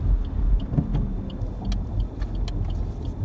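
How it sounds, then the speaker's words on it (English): A 2017 Suzuki Ignis 1.2 SHVS hybrid with ALLGRIP drives slowly over speed bumps around town, its engine a low rumble from inside the cabin, with soft thuds and a few light rattles. "It's soft enough to sort of roll over speed bumps like we are now"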